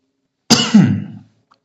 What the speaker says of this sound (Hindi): सॉरी भाई, खांसी हो गई है।